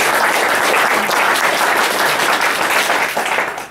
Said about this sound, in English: Big round of applause for Alessandro, please.